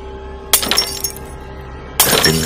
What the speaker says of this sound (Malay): terdengar suara pinggan dan mangkuk pecah di dapur.